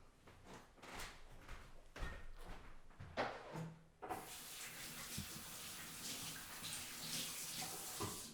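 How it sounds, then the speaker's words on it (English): A kitchen sink tap starts with a thump and then runs in a steady, close rush of water as hands are rinsed under it. Light clatter and handling noises come just before the flow begins. "So I'm going to move these to the sink and rinse my hands."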